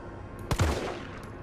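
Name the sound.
gunshots in the video game Resident Evil 3 Remake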